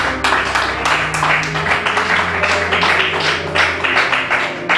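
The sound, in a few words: congregation applause in church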